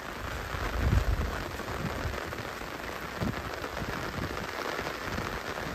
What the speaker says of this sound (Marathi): पाऊस पडतोय. एकदम मस्त वातावरण झालं आहे.